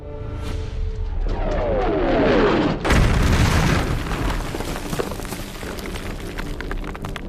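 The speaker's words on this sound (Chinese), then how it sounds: "五圣山观察所遭到炮击" Artillery shell explosion in a Korean War film: a descending whistle builds, then a loud, heavy boom bursts and rolls off into a long, rumbling, crackling decay.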